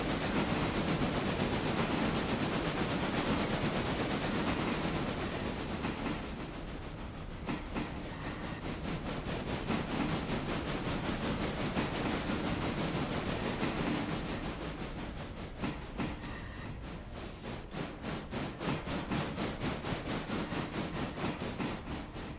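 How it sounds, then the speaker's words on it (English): A locomotive in the railroad simulation game Railroader rumbles along the track with a steady, dense roar and rhythmic clickety-clack of wheels, loud and continuous throughout with no voices. "I better get control of the locomotive I'm driving"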